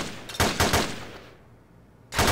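Gunfire in the video game Left 4 Dead 2 comes as a loud, rapid volley of shots, then a short lull before another burst.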